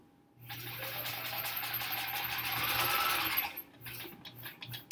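A sewing machine stitches a block for The Splendid Sampler quilt along in one steady, close whirring run of about three seconds, then stops abruptly and leaves only a few faint clicks and handling sounds.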